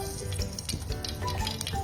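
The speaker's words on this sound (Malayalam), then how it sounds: "എണ്ണയൊന്നും ചൂടായി കഴിയുമ്പോഴത്തേക്കിനും നമുക്ക് കടുക് ഇട്ട് കൊടുക്കാം." Mustard seeds dropped into hot coconut oil make a busy, crackling sizzle with quick irregular pops, close and fairly faint, with no voices.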